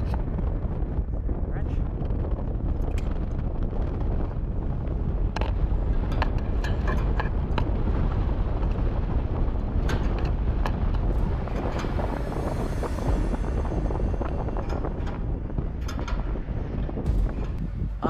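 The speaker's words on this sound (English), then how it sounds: "It's pretty windy up here, but the weather's nice." Strong wind buffets the microphone high up on a radio tower during a climb, a loud, steady broadband roar filling the whole clip with occasional gusty peaks.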